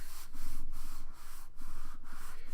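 Paper collage pressed down and rubbed firmly by hand onto a prayer book page, a steady sanding-like scrub in repeated strokes, close and fairly loud, running continuously with short breaks between passes.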